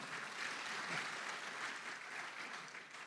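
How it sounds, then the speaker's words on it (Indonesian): A large audience at a police awarding ceremony breaks into sustained applause, a dense, even wash of many hands clapping, heard from some distance throughout. "Boleh tepuk tangannya yang paling meriah."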